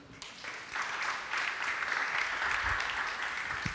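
A church congregation applauds steadily for several seconds, a broad wash of clapping at moderate distance filling the space without pause.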